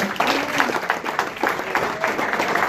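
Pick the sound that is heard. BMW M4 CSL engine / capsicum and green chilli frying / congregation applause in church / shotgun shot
congregation applause in church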